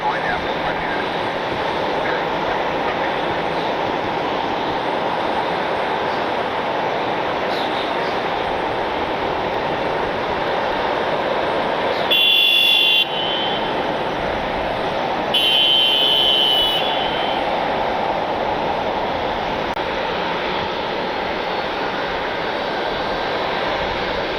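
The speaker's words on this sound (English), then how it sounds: "737-800 today for Alaska Airlines." Alaska Airlines Boeing 737-800 jet in special Disney-themed livery at Cleveland airport, a steady broadband engine roar holding throughout at a distance, with brief louder swells partway through.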